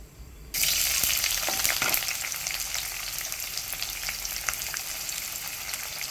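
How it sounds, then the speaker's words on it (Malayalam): Sliced onions hit hot oil in a pan for tomato rice, setting off a sudden loud sizzle that rises abruptly, then settles into steady, close frying with light stirring noises. "ഇതിലേക്ക് സവാള ഇട്ട് കൊടുക്കുകയാണ് കേട്ടോ അരിഞ്ഞു വെച്ച സവാള"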